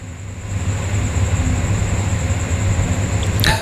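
A train standing at platform 4 of Lahore railway station, the historic British-built terminus, gives off a steady low engine rumble with a constant high whine, ending in a brief sharp clatter near the end.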